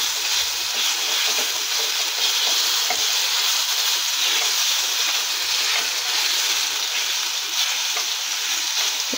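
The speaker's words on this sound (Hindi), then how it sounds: "तेल गरम हो गलानी। एबे अदा रसुण पेस्ट गोटे टीस्पून पकई देबी।" Ginger-garlic paste frying in hot oil in a pan while rohu fish fry is being cooked, giving a steady, loud, continuous sizzle and hiss with faint stirring scrapes and no talking.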